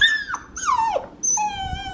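A golden lab puppy about eight weeks old cries and whimpers up close, giving high, drawn-out whines that slide down in pitch, with short pauses between them.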